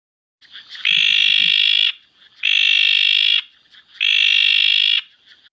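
A recorded frog call played back during a school session about frogs: three loud, sustained buzzing trills, each about a second long and evenly spaced with short gaps, heard alone without talking.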